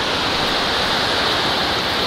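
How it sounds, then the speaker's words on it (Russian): The turbulent Chorokhi River in the Georgian mountains roars as a steady, dense rush of whitewater, loud and close, with no voices. "И вот такая бурная речка."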